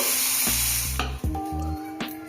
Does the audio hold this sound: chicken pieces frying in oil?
yes